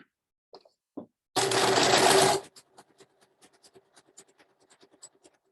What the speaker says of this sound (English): sew with the presser foot that came with my machine